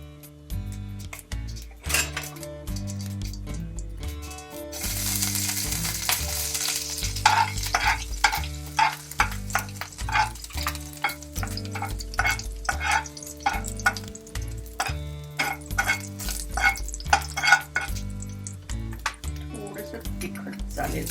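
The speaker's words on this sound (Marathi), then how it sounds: "आपण फक्त जिऱ्याचीच फोडणी टाकणार आहे" Cumin seeds temper in two spoons of ghee over a lowered flame, crackling and sizzling in a pan amid busy clinks of a utensil and stirring strokes, close and fairly loud, with no voices.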